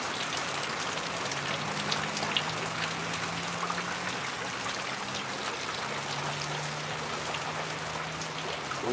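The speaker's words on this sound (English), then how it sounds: "It's raining out here in Georgia." Steady rain falls outdoors in Georgia, a continuous soft hiss of drops on surfaces with faint trickling water, fairly quiet and unbroken with no voices.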